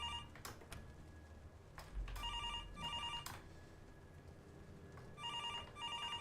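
Insistent telephone bell rings several times in a spooky horror game, paired ringing bursts mixed with sharp knocks and clatter, fairly loud against a dark background hum, no one speaking.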